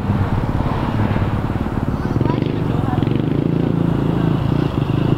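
A mini dirt bike engine runs steadily in first gear, a loud, continuous buzzing drone held close for the whole stretch, with faint voices in the background.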